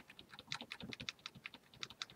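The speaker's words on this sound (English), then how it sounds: "Mouse clicks" Rapid, crisp clicking in an irregular rhythm, close and fairly quiet, like a mouse or keyboard being worked at a computer during a Game Theory ARG puzzle search, with no talking.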